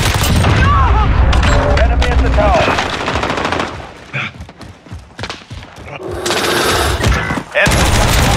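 Rapid automatic weapon fire roars through Call of Duty: Modern Warfare multiplayer, dense bursts up front, then scattered shots and booms, before heavy firing returns; voices call out over the chaos.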